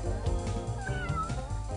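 A cartoonish cat meow from the arcade fighting game Night Warriors: Darkstalkers' Revenge, one short clear call over the game's steady music and effects.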